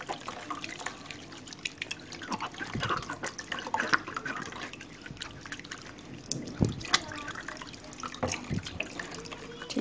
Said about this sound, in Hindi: चलिए अब फिर मैं पानी से इसको साफ करती हूँ।